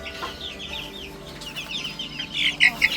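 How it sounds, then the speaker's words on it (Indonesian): Many month-old chickens cheep and cluck continuously at close range, growing busier and louder toward the end. "usia sebulanan sudah ini ya"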